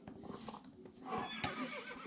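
A horse in the Star Stable video game rears and whinnies, a faint, brief neigh with soft hoof clip-clops beneath it.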